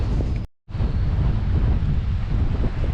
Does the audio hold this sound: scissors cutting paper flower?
no